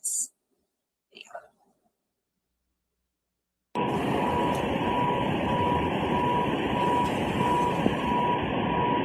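Replayed footage from a murder trial carries a steady reversing alarm that beeps faintly beneath a loud broad rumble of engine and road noise, continuing for several seconds after a brief whisper and silence.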